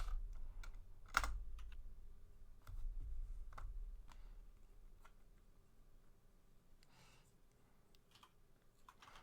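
Players at a League of Legends LAN qualifier type on computer keyboards, giving faint, rapid clicking and key taps under a low room hum, with a couple of louder knocks early on.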